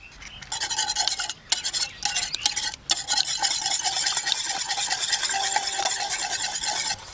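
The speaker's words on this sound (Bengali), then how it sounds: "প্রথমে ডিমটা ফেটে নেব।" Eggs for a pudding batter are beaten by hand in a bowl, a loud, fast, continuous whisking rattle that drops out in a couple of short pauses early on, with no talk.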